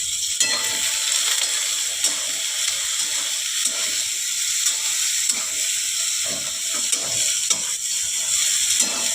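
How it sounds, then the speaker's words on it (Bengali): Whole lote (Bombay duck) fish frying in hot oil with a pinch of turmeric in a pan, giving a steady, loud sizzle and hiss throughout with small popping crackles and no voices. "হালকা ভেজে নিলাম।"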